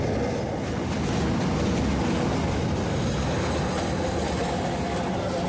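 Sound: local train departing Abada station

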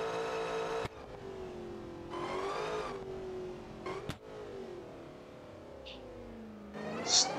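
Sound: BMW X6M engine revving in BeamNG.Drive video game

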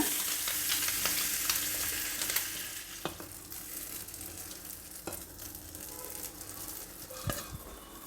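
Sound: butter paddu batter sizzling in paddu pan

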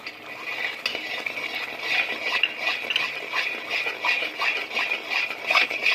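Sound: stirring coconut paste ball into spiced masala

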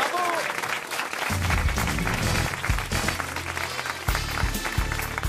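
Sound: studio audience applause on radio show

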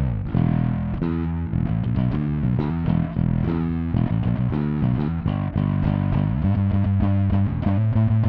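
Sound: bass guitar through Hartke Bass Attack 2 preamp

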